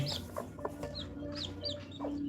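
Chickens cluck in short, repeated bursts close by in a coop where chicks have just hatched, and the calls overlap at a moderate level. No voices are heard.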